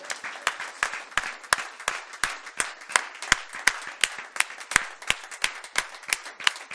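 A church congregation claps in a steady, fairly even rhythm, roughly two claps per second, loud and close throughout.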